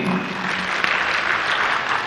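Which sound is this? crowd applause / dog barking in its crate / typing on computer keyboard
crowd applause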